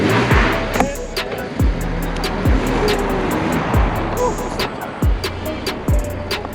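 A BMW E92 325i M Sport is driven along the road, heard from inside as a steady engine and tyre drone with a series of regular thumps from road joints or bumps.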